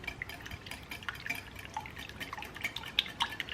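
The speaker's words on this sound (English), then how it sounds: "Got my whisk, and I'm just going to whisk all of this together." An omelette mixture of eggs and filtered water being whisked in a bowl, a quiet, steady stream of light liquid clicks and drips with no talking.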